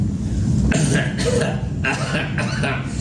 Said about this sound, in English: And I am coughing here not because I have a cold